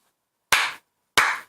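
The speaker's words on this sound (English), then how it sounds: "I'll give that the second slow clap" Two deliberate hand claps, spaced well apart in a slow, sarcastic rhythm, each sharp and close with a short ringing decay, alone with no talking.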